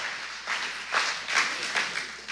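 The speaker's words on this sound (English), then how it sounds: "It's okay to clap." Audience in a church-style talk bursts into brief applause, several short surging waves of clapping over about two seconds, moderately loud with no talking over it.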